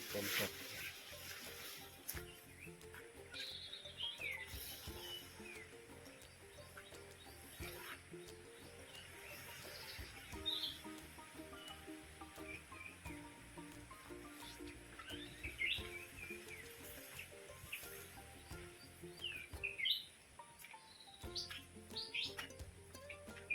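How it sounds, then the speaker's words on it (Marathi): Birds chirp and call repeatedly in a forest, bright tweets scattered throughout over a steady background hum and some faint distant voices. "पाखरांचा आवाज ऐकू शकतात तुम्ही"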